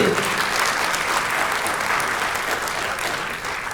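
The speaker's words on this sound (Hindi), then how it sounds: "आप सभी से निवेदन करूंगा एक बार जोरदार तालियों से" Sustained, loud applause fills an auditorium from a workshop audience at dance and theatre performances, an even wash of many hands clapping throughout.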